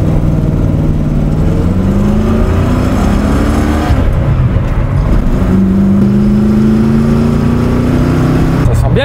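A 1968 Ford Mustang Fastback engine revs loud and close, its pitch climbing and falling in repeated sweeps over a steady, rumbling idle.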